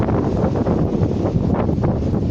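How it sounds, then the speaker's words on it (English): Strong wind buffeting the microphone outdoors, a loud continuous low roar with gusty surges. "It's getting really windy, eh?"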